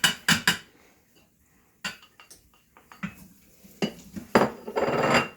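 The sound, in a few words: kosher salt and cracked pepper added into a pot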